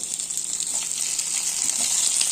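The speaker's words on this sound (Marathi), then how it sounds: "खसखस काजू आणि आपण हे परतून घेऊया आणि गोल्डन ब्राऊन झाले की आपण याच्यामध्ये टोमॅटो घालून घेऊया" Cashews, poppy seeds and sesame sautéing in a pan for a spicy raw jackfruit curry masala, a steady close hiss of frying oil with faint stirring scrapes throughout.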